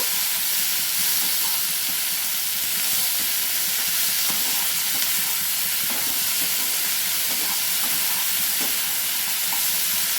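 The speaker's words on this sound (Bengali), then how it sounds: "শিম, বেগুন, আলুটা ভালো করে নাড়াচাড়া করব।" Beans, eggplant and potato are stirred in hot oil in a pan, a steady close sizzle and hiss with soft scraping stir noises running throughout, no voices.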